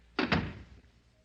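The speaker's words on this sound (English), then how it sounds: "Close the door." A door swings shut in an old-time radio drama, giving two quick close thumps, a latch click followed by the solid close, clear and near, with a short fading tail.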